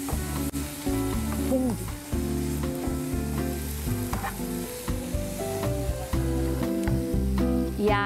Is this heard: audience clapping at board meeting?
no